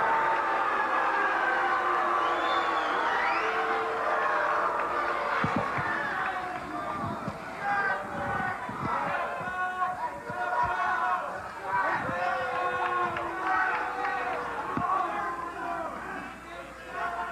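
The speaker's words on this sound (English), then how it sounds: "Crowd sounds like it's going to start throwing chairs." An old-school UWF wrestling crowd roars and chants rowdily in a continuous swelling din with shouts and whistles, under someone talking over it.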